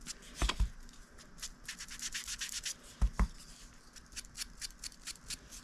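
Paper edges are rubbed with a juicy ink pad in a mixed-media craft project, giving a steady run of soft, dry brushing and scuffing strokes close up, with a few sharper taps along the way and no talking.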